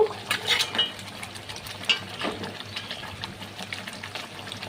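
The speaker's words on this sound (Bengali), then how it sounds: "তো দেখো আমার ঝোলটা ফুটতে শুরু করেছে" A prawn malai curry with coconut milk comes to a boil in a pan, soft bubbling under a few sharp clinks of a utensil against metal, close and fairly quiet.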